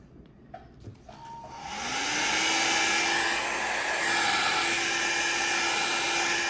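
A steady, loud dryer roars on after a few faint clicks, holding a constant high whine with a low hum beneath, blowing on alcohol ink art.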